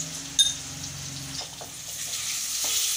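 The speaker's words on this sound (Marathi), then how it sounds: "बटाटे तेलात छान परतून घ्यायचे।" Boiled potatoes fry in hot oil with salt and garam masala, a close, continuous sizzle broken by a sharp clink of a utensil early on and a few scraping stirs, with no talking.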